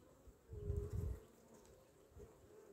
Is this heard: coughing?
no